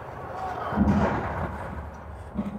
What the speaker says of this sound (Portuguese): eles colocam um sistema de som que faz o barulho das explosões no ambiente